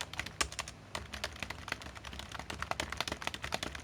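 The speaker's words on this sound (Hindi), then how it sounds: "तो यहाँ पे हम थोड़ा कुछ डेमो के लिए टाइप कर देंगे" Fast, steady typing of demo text on a computer keyboard: dense, close keystroke clicks in an irregular patter, with no speech.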